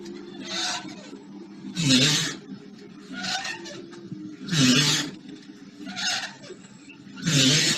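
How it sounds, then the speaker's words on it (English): A creaking swing sounds faintly and somewhat distant, its rubbing squeaks rising and falling in a slow regular back-and-forth rhythm, about six creaks, over a low background rumble. "This is the sound of a swing"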